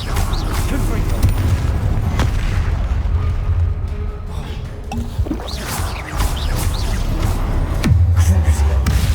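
Confringo spell blasts in the video game Hogwarts Legacy, with booming explosions and bursts over a dense, continuous mix of combat effects and music while a voice calls out spells throughout.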